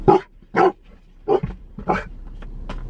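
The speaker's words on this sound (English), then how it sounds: "Look, he about to start barking." A dog barks four times close by, sharp separate woofs with short pauses between them.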